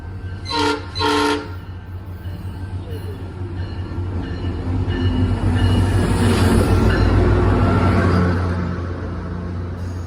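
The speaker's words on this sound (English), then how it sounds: "Next up is northbound train 334 arriving." A SunRail northbound commuter train rolls into the station, two short horn blasts near the start followed by a swelling rumble of cars passing close, then easing.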